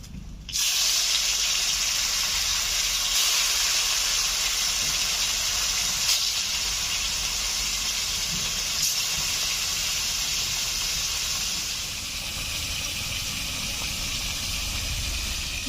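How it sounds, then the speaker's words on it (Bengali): Rita fish fry in hot oil with a loud, continuous broadband sizzle that holds steady throughout and eases slightly near the end, heard close and alone with no speech. "এই তেলে বাদ বাকি মাছগুলো ভেজে নিচ্ছি।"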